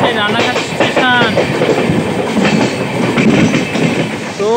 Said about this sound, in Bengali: আমাদের ট্রেন স্কিপ করছে রানাঘাট স্টেশন